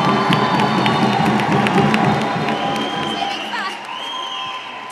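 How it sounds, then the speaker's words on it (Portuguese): Loud, sustained crowd ovation of cheering and clapping for gymnast Rebeca da Silva of Brazil at the Paris Olympics, with whoops and whistles rising through a packed arena and easing slightly toward the end. "depois nós vamos ter a maior ovação olímpica desses Jogos de Paris"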